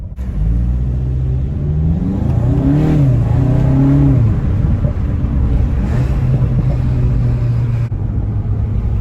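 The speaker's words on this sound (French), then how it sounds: "Petite accélération, c'est parti." Volkswagen Golf Clubsport with a DSG gearbox accelerating hard, its engine note climbing through a revving sweep and settling into a steady drone, heard from inside the car with constant road and wind rumble and no talking.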